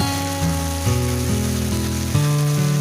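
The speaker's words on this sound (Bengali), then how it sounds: "মশলাটা আমি ভালো করে কষিয়ে নেব।" Ginger-garlic paste and spices fry in a pan for a spicy chicken liver and gizzard dish, giving a loud, steady, close sizzle that runs unbroken throughout, with a tonal hum layered underneath.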